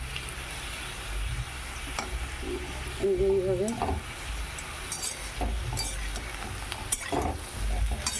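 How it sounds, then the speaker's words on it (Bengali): Steady sizzling of round potato slices frying in a pan, with occasional scraping and clinks of a utensil, while someone speaks briefly. "মেয়ের জন্য এই যে একটু আলু ভাজা করে দিচ্ছি এরকম গোল গোল করে একটু আলু ভাজা করে দিচ্ছি"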